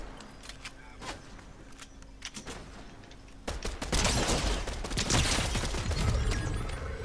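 Bursts of gunfire in a shooting video game, scattered sharp shots early, then a denser, louder run of rapid fire in the second half, under faint background game sounds.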